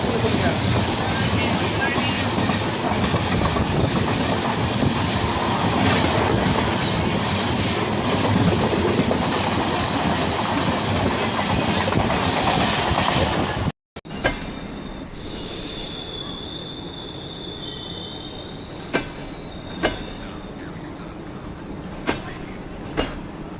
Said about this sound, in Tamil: அப்போ இந்த மாதிரி ஒரு ட்ரெயின் வந்து டக்குன்னு உங்களுக்கு கிராஸ் பண்ணுவோம்.